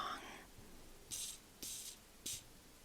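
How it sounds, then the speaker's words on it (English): A perfume atomizer on a bottle of Juliette Has a Gun Lady Vengeance gives three short, crisp hissing sprays, evenly spaced and close, in a quiet room. "I'm going to spray this twice because, like I said, this is not very strong."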